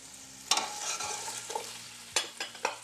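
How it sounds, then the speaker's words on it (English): Okra, celery, carrots and peppers browning and sizzling in a hot pan, a steady fry broken by a few sharp stirring clatters and scrapes, close and fairly loud with no talking. "before I brown the vegetables"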